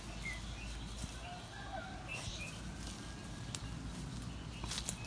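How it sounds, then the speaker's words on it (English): Assorted birds chirp outdoors in a sunny home garden with sunflowers and papaya plants, with scattered short calls over a steady outdoor hiss and light rustling footsteps. "All kind of birds out today."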